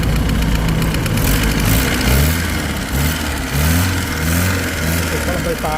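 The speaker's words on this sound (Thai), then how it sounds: "เดี๋ยวเครื่องยนต์เดินเรียบเลยนะครับ" A rough, steady engine of a 1974 Mahindra Jeep CJ4A idles with a low chugging rumble throughout, close and fairly loud, with slight rhythmic surges.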